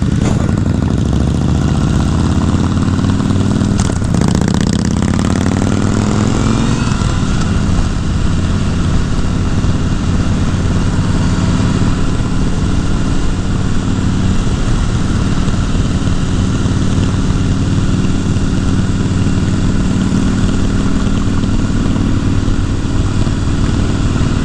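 A Honda CBR 1000 Repsol sport motorcycle engine drones loudly and continuously while being ridden, with a rising rev sweep early on and constant wind-like roar throughout.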